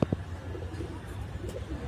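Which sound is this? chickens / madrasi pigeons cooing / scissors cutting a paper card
madrasi pigeons cooing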